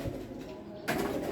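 Teddy and Ferozpuri cross pigeons give low, soft cooing close by, a steady murmur with a brighter burst near the end and no talk.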